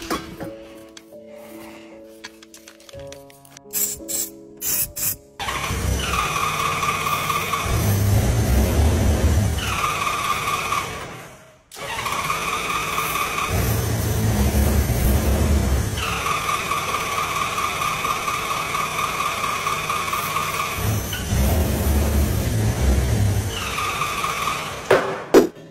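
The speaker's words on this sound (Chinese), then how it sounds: "它现在是能启动，但只能一下，而且必须要呲点外挂才行。" A 1988 Honda Gold Wing motorcycle engine, primed with starting fluid, catches and runs loudly in two bursts of roaring revs, separated by a brief stop, with clicking and cranking sounds before the first start.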